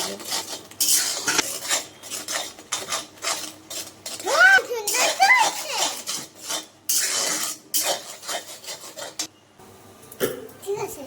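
Semolina and onion stirred in a cooking pot: repeated close scraping and rubbing of a utensil against the metal pot in an uneven rhythm, with a brief voice-like sound partway through.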